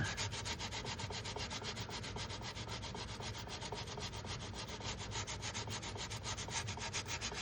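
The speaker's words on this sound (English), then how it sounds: "now I'm just going to basically work on sanding this to get the shape I need" Steady rhythmic rasping of coarse sandpaper scrubbing back and forth on a 1/400 scale model ship hull, close and continuous with no talking.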